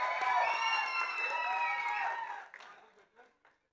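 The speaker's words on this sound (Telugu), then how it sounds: "కాజల్ అగర్వాల్కి ఒక్కసారి గట్టిగా చప్పట్లు" An audience at a film trailer launch event for Satyabhama applauds and cheers for actress Kajal Aggarwal, a loud, dense wash of clapping and whoops that holds for about two seconds, then thins into a few scattered claps.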